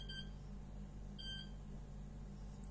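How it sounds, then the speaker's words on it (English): A motor driven by a Hobbywing ESC emits two short high confirmation beep bursts about a second apart after throttle calibration on a Pixhawk setup, clear over a low steady hum. "So here is the sound from the motor that the ESC limits has been set and saved"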